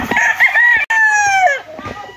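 A young fighting stag rooster crows once, a loud, close, drawn-out cock-a-doodle-doo that falls off at the end, with faint clucking and farmyard noise around it.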